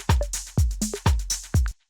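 Slightly out-of-tune bongos and congas from a sample play a short hand-drum pattern of about six close, resonant hits with pitched ringing tones, loud and alone, ending abruptly.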